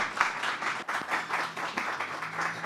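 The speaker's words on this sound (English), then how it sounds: "Can we hear a round of applause for Pam," Audience applause for Pam Hester of Portland Metropolitan Workforce Training at an outdoor groundbreaking ceremony: steady, dense clapping from a crowd, rising and falling in waves with no speech.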